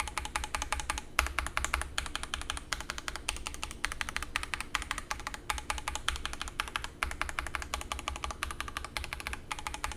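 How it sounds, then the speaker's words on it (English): Rapid keystrokes clatter steadily on a CIDOO V87 mechanical keyboard, crisp and close, slightly hollow on the right-side keys, with a few brief pauses between bursts of typing. "The V87 also seems to have a hollow sound on the keys toward the right side of the board"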